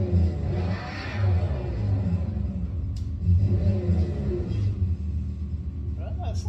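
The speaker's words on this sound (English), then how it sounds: "I thought it'd be like a fake V8 noise, but they kind of made it original" A 2024 Dodge Charger's V8 engine revs in a steady low rumble with a couple of swells in intensity, heard under people talking nearby.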